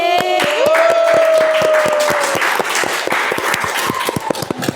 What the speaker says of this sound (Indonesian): kita tepuk tangan lagi untuk eskul tari lagi